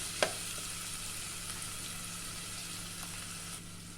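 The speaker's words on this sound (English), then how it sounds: "onion, garlic, ginger, my leeks. I'll just saute these for 2 minutes" Onion, garlic, ginger and leeks sauté in a pan with a soft, steady sizzle that stays faint and even, broken early by a single sharp tap.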